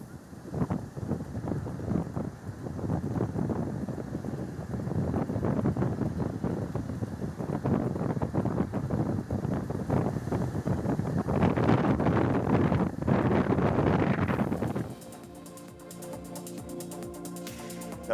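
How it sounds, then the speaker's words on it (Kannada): Strong gusting wind with rain lashes the Karnataka coast by a rough Arabian Sea, a loud, continuous roar buffeting the microphone for most of the stretch before dropping to a lower rumble near the end. "ಜಿಲ್ಲೆಯಲ್ಲಿ ಮಳೆ ಜೊತೆ ರಭಸವಾಗಿ ಗಾಳಿ ಬೀಸ್ತಾ ಇದ್ದು ಅರಬ್ಬಿ ಸಮುದ್ರ ಪ್ರಕ್ಷುಬ್ಧವಾಗಿದೆ."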